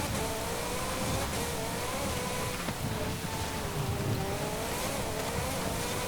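A supercharged 1982 Lancia 037 Stradale engine in Forza Horizon 5 drones steadily and loudly under throttle, its pitch wavering and sweeping up and down as the car accelerates and holds speed over rough offroad terrain.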